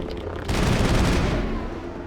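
An assault rifle fires in Mass Effect 1, a sustained, loud burst of rapid automatic shots that swells after a quieter start and rolls on for over a second.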